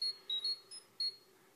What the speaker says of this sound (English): the communicator beep, which is in the regular standard version of the Morpher